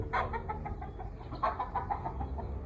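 A Euroleg chicken clucks while being bathed, a series of close, soft repeated clucks in an uneven rhythm against a low background rumble, with no speech.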